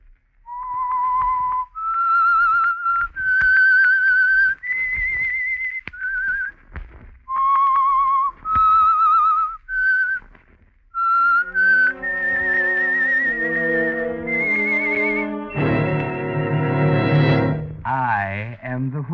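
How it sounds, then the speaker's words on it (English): A melodic whistled radio-drama theme in clear sustained notes with short gaps, followed by a brief swelling orchestral passage with a rising tone. "That whistle is your signal for the Signal Oil Program"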